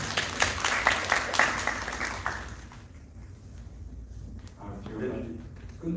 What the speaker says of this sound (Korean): 박수를 좀 보내주시죠